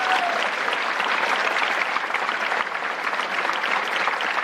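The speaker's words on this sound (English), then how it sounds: "Big round of applause for our inductees." A crowd claps for National Honor Society inductees at a school ceremony, a dense, even burst of applause heard close and continuously.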